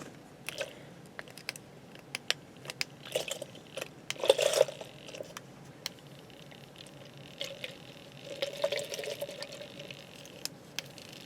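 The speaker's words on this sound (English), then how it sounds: "It's not really, like, going very fast, and it is splashing everywhere." An automatic makeup brush cleaner spins slowly in liquid, giving irregular close splashing and sloshing bursts with small clicks, loudest around the middle and again near the end.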